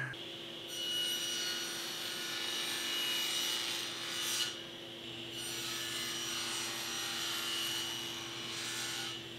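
Saw cutting the sides of a wooden open box vase at a 22.5 degree miter angle, a steady whining cut under a constant machine drone, broken by short pauses between passes.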